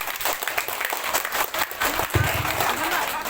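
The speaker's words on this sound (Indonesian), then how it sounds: "Beri satu kali tepuk tangan" An audience at a maulid nabi religious gathering claps together on cue, a fairly loud burst of many hands with some voices mixed in beneath the clapping.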